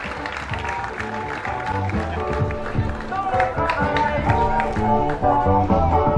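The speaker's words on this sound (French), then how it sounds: "Ovationnez toujours les enfants." Audience applause and ovation for schoolchildren at a school event, continuous clapping mixed with crowd noise and loud talk or music over it, sustained throughout.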